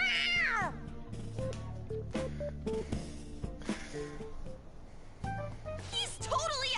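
A cat meows in the video game Persona 5 Royal, its rising and falling cries coming at the start and again near the end, mixed with game music and characters' voices.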